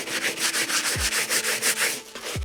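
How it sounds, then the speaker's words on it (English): A stiff brush scrubs a sneaker sole in quick, even back-and-forth strokes, a rhythmic close-up bristly rasp of about a dozen passes with a couple of soft thuds, no talking. "once we finish scrubbing the sole with our stiff brush"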